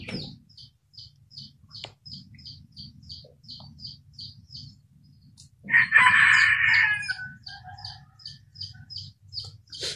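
A rooster crows loudly midway while chickens cluck and cheep in a quick repeating pattern around it, with low background noise.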